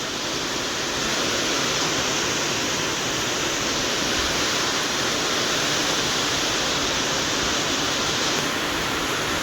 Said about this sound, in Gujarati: બસ આ તો એમ ભાઈ વરસાદ ચાલુ થઈ ગયો મસ્ત